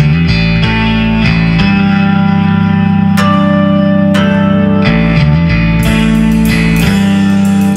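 Bell-like harmonics ring from a Hamer 12-string bass over a steady low drone, played with the amp emulation off and a long reverb that leaves each chime sustaining and blurring into the next, loud and alone.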